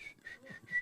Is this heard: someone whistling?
yes